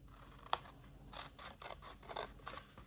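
Scissors snip through paper while a gift box is cut out, a sharp first click and then several soft, close cutting strokes, faint and with no talk.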